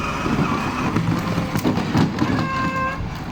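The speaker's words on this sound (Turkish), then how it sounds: "Kornaya bas bakalım." A toy ride-on car horn sounds in sustained electronic tones in a park, once near the start and again near the end, over a busy background of rumbling and clatter.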